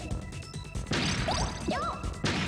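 Pods being smashed in the video game Bomberman 64, on the Red Mountain world: a few loud, close cracking bursts with whooshing sweeps over a steady background of game music, no voices.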